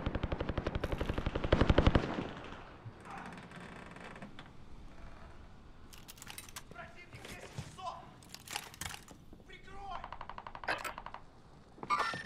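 Bursts of rapid automatic gunfire in the Call of Duty: Modern Warfare video game, a dense volley at the start followed by scattered shots and mechanical clatter while players talk over it.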